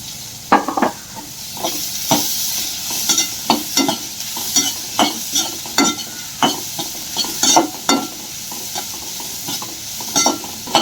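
Onion sizzles in hot oil with green cardamom and black peppercorns while a spoon scrapes and stirs the pan in quick, irregular strokes over a steady frying hiss.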